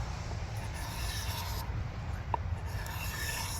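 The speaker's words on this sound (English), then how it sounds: "Just start at either the top or bottom and just scrape" Lacquer being scraped by hand off a wooden axe handle, a steady, close rasping rub that runs continuously with no speech.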